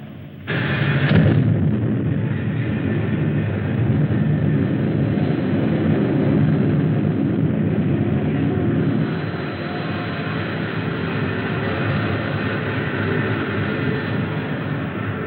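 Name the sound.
rocket ship XV-5 blasting off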